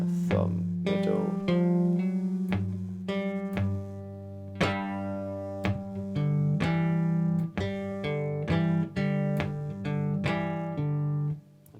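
Cigar box guitar plays a song's hook, with plucked, hammered and slid notes over a steady bass thumb, ending in strums, played alone and up close.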